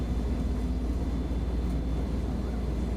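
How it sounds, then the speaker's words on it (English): Zibo Boeing 737 airliner engines in the X-Plane flight simulator, a steady low droning rumble with a broad roar above it, continuous and even throughout. "You can hear the engines kind of slowing down a bit."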